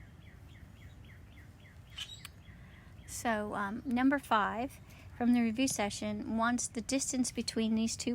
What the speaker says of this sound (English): so if you hear birds or dogs barking, they're just in my backyard